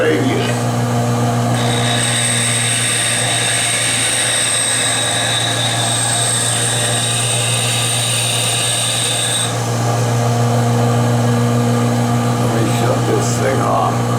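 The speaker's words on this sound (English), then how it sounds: "now I'm going to grind the radius." Grinding a radius on a workpiece on a knee mill, a steady loud motor drone with sustained high-pitched tonal whine that holds for most of the clip, then shifts slightly as the machine continues running.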